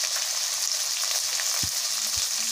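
Carrots, beans and other vegetables for bisibelebath fry lightly in a pan with a steady, close hiss of sizzling oil and a couple of faint soft knocks.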